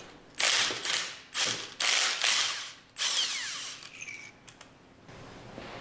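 A power tool spins out manifold retaining bolts in several loud, close bursts of whirring ratchet noise separated by short pauses, followed by a fainter metallic whine and clinks.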